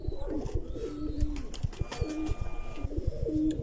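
Pigeons coo softly at their loft, low repeated calls layered with chirps and a few brief sharp taps, with no voices over them.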